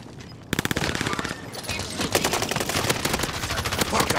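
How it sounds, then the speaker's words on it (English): Rapid automatic gunfire in the video game Call of Duty Warzone, with a close burst of rattling shots that starts abruptly and keeps going as sustained fire mixed with game noise. "Somebody shooting at me. Single shooter."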